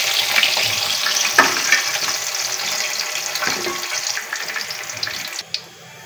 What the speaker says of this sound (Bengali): একটু হলুদ, এবার নেড়েচেড়ে ভাজি করে নিচ্ছি।